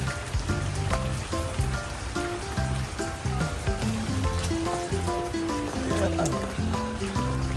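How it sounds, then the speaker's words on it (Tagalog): Steady rain pattering on a surface, dense and continuous, with a tonal rhythmic sound running underneath throughout. "Yan na po, ulan na po dito."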